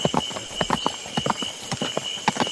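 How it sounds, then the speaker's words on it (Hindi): Horse hooves clip-clop in a steady trotting rhythm, a series of sharp close knocks on a forest path with no voices over them. "ये घोड़े की टापें कहां से आ रही हैं?"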